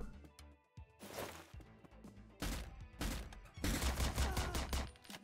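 Video game gunfire from Door Kickers: Action Squad, a SWAT shooter, with repeated close, loud bursts of shots hammering in clusters and a sustained rapid volley near the end, plus a little speech underneath.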